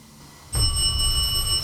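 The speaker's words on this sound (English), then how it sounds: "Ding, went ding, ding, ding, ding, ding," A bell rings with a bright, sustained metallic tone during a paranormal investigation in a house, struck once loudly and left to ring on, close and alone without talk.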